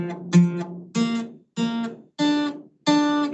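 Trumpet climbing the first eight notes of the harmonic series, five separate sustained tones heard up close, each a little higher than the last, played alone with short gaps between them.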